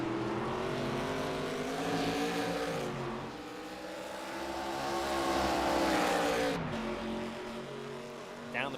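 Race cars at Road Atlanta in a sim racing game roar past with rising and falling engine whines, gear shifts and a pass, layered under steady commentary.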